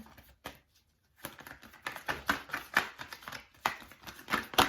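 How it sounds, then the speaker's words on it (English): Tarot cards are shuffled close by in quick, crisp bursts of riffling and flicking, with a short pause near the start and no voices. "shuffling these cards ain't no joke."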